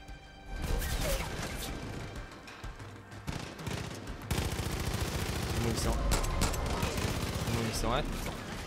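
Heavy bombing and gunfire in Far Cry 5 while defending a hangar: dense bursts of rapid shots and sharp explosive crashes pile up loudly and almost without pause, with a voice talking over the din.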